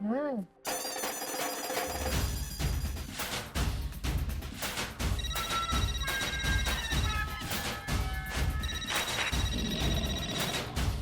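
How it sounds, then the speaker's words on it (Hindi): A telephone rings with repeated electronic trilling bursts amid busy background sound, the ringtone coming in clear, insistent waves. "अरे फोन उठा, फोन उठा।"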